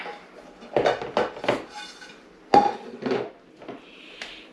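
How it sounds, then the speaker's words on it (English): A metal cake pan is set down over a cooled pound cake with a few sharp clanks and knocks, close by and in separate bursts, with quiet pauses between them. "You're going to put your pan back over on your cooled cake."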